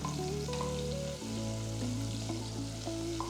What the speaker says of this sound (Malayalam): ചൂടായ എണ്ണയിലേക്ക് ഒരു 1/2 കപ്പ് ചുവന്നുള്ളി ഫുള്ളായിട്ട് ഇടുന്നേ